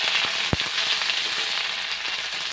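Onion frying in hot oil for a small fish recipe, a dense steady sizzle close up with a single sharp crackle pop early on and no talking.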